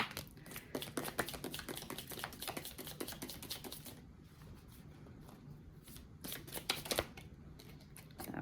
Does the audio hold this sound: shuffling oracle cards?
yes